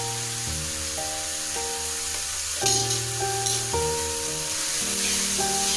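Cumin powder and chili powder being mixed into hot oil in a frying pan for vegetable noodles, a steady soft sizzle under louder background music with sustained tones.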